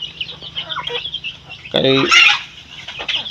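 Chickens at a poultry yard cluck and squawk close by in irregular bursts, with one louder, rising cackle standing out, while someone talks over them.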